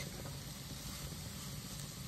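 Soft, steady sizzling of chicken frying in a pan with turmeric, curry powder, black pepper, paprika, cinnamon, salt and ginger, stirred in, a faint continuous hiss with light scraping and no voices.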